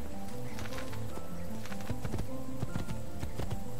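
Game horse hooves clip-clop at a steady trot in Assassin's Creed 2, close and rhythmic beneath game music and ambient sound.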